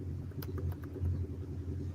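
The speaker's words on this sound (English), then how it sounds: "What's that in the background, Luke? That's a Harley" A Harley-Davidson motorcycle runs next door, a steady low engine rumble idling in the background at moderate level, continuous throughout without talk.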